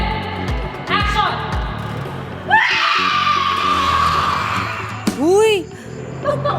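An actress lets out a loud, sustained scream lasting a couple of seconds on the set of a Home Credit commercial shoot, framed by shorter shouts and other voices nearby.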